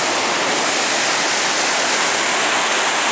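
Rushing water of the Temperance River near Lake Superior, a loud, steady broadband roar filling the whole stretch without break, close by and with no voices.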